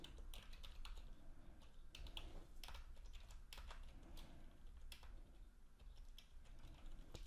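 Code being typed on a computer keyboard, a quick irregular run of soft key clicks and taps, close but quiet, with no voice present.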